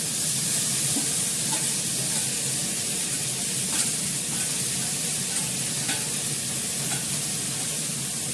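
Fenugreek greens sizzle and fry steadily in a pan over a low gas flame, a continuous close hiss with faint stirring scrapes and no voices.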